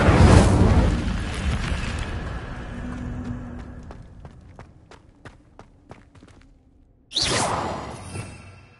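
Incendio fire spell in Hogwarts Legacy erupts with a loud whooshing blast that fades over a few seconds, followed by light scattered footsteps and then a second sharp burst near the end.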